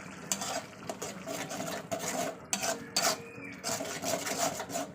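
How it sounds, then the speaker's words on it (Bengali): Masala with turmeric and salt sautéed in a pan, a close run of scraping, rasping stirs with clinks of a spoon against metal in uneven bursts. "লবণ দিয়ে দিচ্ছি, দিয়ে ভালো করে আবার কষিয়ে নেবো"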